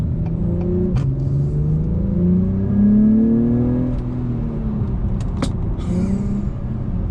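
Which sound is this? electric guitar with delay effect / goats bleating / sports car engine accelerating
sports car engine accelerating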